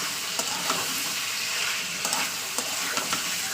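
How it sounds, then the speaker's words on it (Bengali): Chicken pieces fry in their own released oil in a pan, giving a steady, dense sizzle with occasional sharper pops throughout. "আমি চিকেনটাকে 2 থেকে 3 মিনিট ভাজা ভাজা করে নিয়েছি। আর চিকেন থেকে তেল ছেড়ে এসছে আমার"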